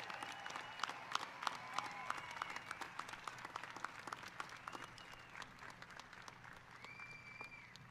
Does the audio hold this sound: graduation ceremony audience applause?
yes